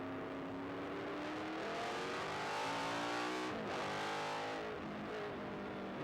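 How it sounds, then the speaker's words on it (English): On-board sound from a 1973 Lola T332 Formula 5000 race car at Manfeild, a loud continuous engine roar climbing through the gears with sharp shifts and a lift around mid-run, no talking. "the best sounding race cars in New Zealand, if not the world."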